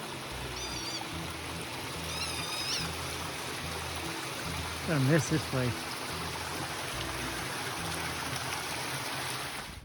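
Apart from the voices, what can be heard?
creek water flowing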